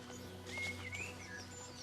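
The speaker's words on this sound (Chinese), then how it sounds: "然后我们只能听到那些鸟在叽叽喳喳的叫。" Small birds chirp and whistle in a shady bamboo forest on a remote mountaintop in Zheng'an, Guizhou: a few faint, thin calls rise and slide over a quiet, steady background, distant and sparse.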